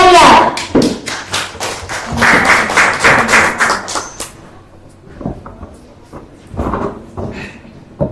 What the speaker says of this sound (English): let's once again give a big round of applause for Victoria